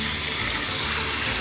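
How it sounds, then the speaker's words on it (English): Cold tap water runs into a sink to rinse drained canned black beans, a steady, close, full-bodied gush that continues unbroken and alone. "And you wanna rinse it with cold water."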